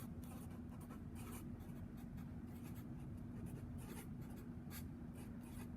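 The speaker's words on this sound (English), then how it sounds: "So I'm going to write tangent as sine over cosine here." Steady scratchy pen strokes writing a trigonometry equation by hand on paper, close and continuous over a constant low electrical hum, no voices.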